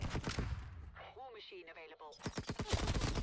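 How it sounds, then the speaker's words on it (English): A nail gun fires in Call of Duty: Cold War, with bursts of sharp, rapid gunfire-like cracks at the start and end and a brief lull in between where a voice-like tone sounds. "He's using a nail gun?"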